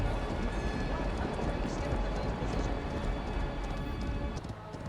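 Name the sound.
horse galloping in video game Rival Stars Horse Racing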